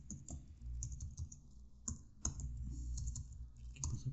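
Computer keyboard typing in bursts of quick clicks with short pauses, close and fairly loud, with no voice.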